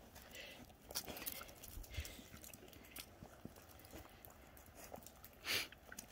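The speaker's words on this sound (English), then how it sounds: "All right, we can't forget the horses." Horses at an animal rescue in winter shifting and stepping nearby, with scattered hoof clops, snorts and chewing-like noises against a quiet background.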